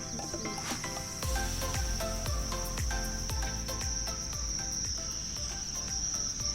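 Insects chirp on a mountain top in a steady, shrill, continuous drone, with rhythmic low thumps pulsing underneath throughout.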